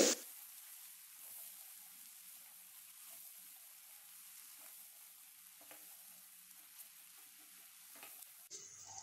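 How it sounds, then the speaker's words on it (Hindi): Masala of red chilli, coriander powder and garam masala frying in a pan, a soft, even sizzle that stays faint and steady throughout, with a brief louder burst at the start. "अब हम मसाले को फ्राई कर लेंगे।"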